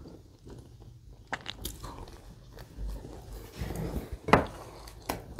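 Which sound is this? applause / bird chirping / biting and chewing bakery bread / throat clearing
biting and chewing bakery bread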